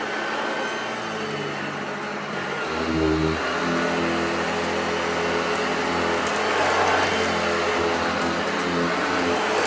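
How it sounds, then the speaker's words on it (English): A 1970 Hoover Junior Dirtsearcher upright vacuum cleaner runs steadily, its motor drone loud and continuous as it sucks up cat litter from a carpet, with a brief shift in pitch partway through. "Hoover Jr. Dirtsearcher against cat litter."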